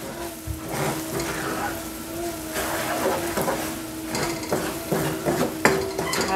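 A spoon stirs crab noodle soup in a pot over medium heat, with repeated soft scraping and clinks against the pot over a gentle sizzle and a faint steady hum.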